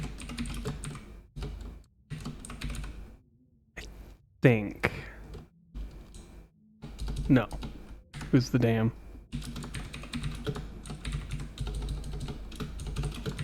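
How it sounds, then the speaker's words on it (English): Someone types on a computer keyboard while playing The Long Dark. Fast clusters of key clicks run throughout, broken by short pauses, and someone speaks briefly over the typing. "I'm terrible at typing today and spelling"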